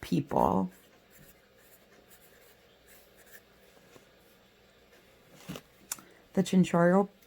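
A pen or pencil scratches faintly across paper during handwriting, soft and close, set between brief bursts of a voice talking at the start and the end.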